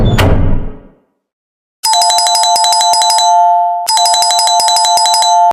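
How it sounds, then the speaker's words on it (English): After a loud thud and a brief silence, an electronic doorbell chime rings in a rapid, repeating melody, pauses briefly, then starts again, loud and close. "Someone is ringing my doorbell."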